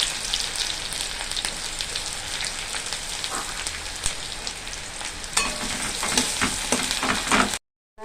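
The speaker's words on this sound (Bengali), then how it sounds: "লাল করে ভাজবো পেঁয়াজটা" Onions frying in hot oil alongside chillies in a pan, a steady crackling sizzle with occasional stirring scrapes, close and continuous before cutting off abruptly at the end.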